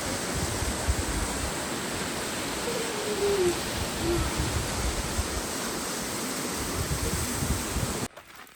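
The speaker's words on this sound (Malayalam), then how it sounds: "നല്ല ശബ്ദമുണ്ട്, പക്ഷെ ഒരുപാട് വെള്ളമൊന്നും ഒഴുകുന്നില്ല, ചെറുതരത്തിൽ വെള്ളം ഒഴുകുന്നുണ്ടായിരുന്നു." Small stream of water flowing near a bridge in the Dolomites of northern Italy, a steady close rushing wash that drops away sharply just before the end.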